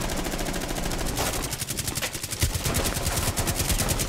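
Rapid automatic gunfire in Rainbow Six Siege on the Bank map, loud close bursts of evenly spaced shots crackling over a dense background of game noise.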